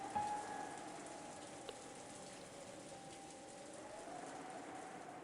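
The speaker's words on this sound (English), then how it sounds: "the meal ended up being so quiet that you couldn't ignore the sound of the rain sneaking into the dining hall" Steady rain ambience from the Umineko video game, a soft continuous hiss of falling rain filling the background, quiet and even throughout with no voices.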